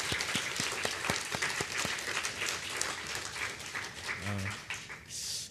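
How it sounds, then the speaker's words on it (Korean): Audience applause at a patriotic lecture in Atlanta, a dense wash of clapping that fills the hall and tapers off toward the end, with a brief voice near the close. "제가 감사의 마음으로 여러분 다 같이 박수"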